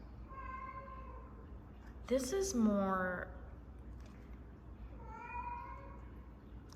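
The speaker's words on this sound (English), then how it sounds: "I'm sorry, that's my cat." A house cat meows several times, one loud drawn-out meow followed by a softer one, close by while someone talks about scented wax.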